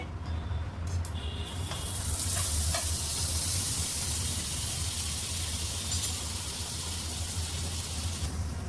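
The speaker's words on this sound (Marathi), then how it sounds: "गॅसवरती पॅन ठेवलेला आहे. बटर टाकते." Butter sizzling in a pan on a gas stove, a steady bright frying hiss that builds after a brief clatter at the start and holds evenly throughout, fairly close with no voices.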